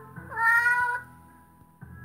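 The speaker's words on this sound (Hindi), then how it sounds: "कितनी क्यूट बिल्ली।" A cat in the video game Dark Riddle gives one drawn-out, fairly loud meow over a steady game background hum, followed by quieter ambient tones.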